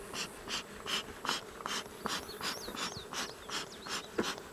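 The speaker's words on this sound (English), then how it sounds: "There's a lot of bees." Honey bees buzz around an open backyard beehive during a late-season honey harvest, a soft continuous hum with repeated pulses of nearby buzzing.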